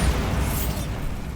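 A Bombarda exploding spell goes off in Hogwarts Legacy, a loud, dense blast of roaring rumble that holds steady, then thins out as its high crackle fades away.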